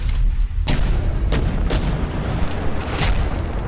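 Heavy booming blasts, as from a bomb explosion, roll out in a loud series of about five deep impacts over a rumbling, noisy background, with no voices.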